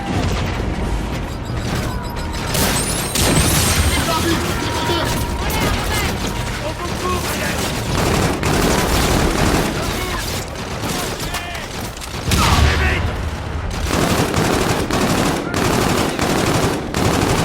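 Dense gunfire from the Call of Duty: Infinite Warfare video game, with rapid machine-gun bursts, single shots and booms continuing without a break, loud and close, while voices shout over the shooting.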